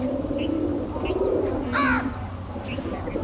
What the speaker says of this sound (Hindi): तो ये देखें जी सारे कबूतर हमारे यहाँ पर बाजरा खा रहे हैं बाहर